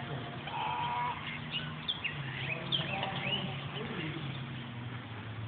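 Goose or duck honking calls, part of a flock with pigeons about, come in a steady stream of overlapping nasal honks close by, with people talking over them throughout.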